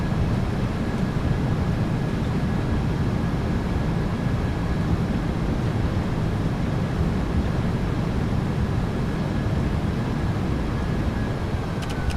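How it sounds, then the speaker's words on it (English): Thrust reversers roar on a PMDG 737-800 during landing rollout in MSFS2024, a steady, dense broadband rumble that holds at a loud, constant level throughout without a break. "Reversers are out. Decelerating."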